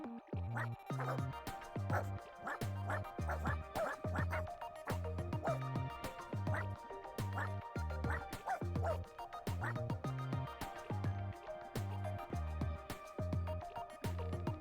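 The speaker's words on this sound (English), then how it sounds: "Oh, he's howling." A cartoon dog in the video game Wobbledogs gives repeated, evenly spaced yelping howls over steady game music, loud and continuous with no talk over it.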